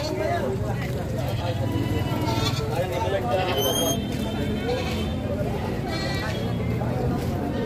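Goats bleat now and then at a livestock market in Padre Garcia, Batangas, over a busy background of chattering voices and crowd noise, the calls fairly faint in the bustle.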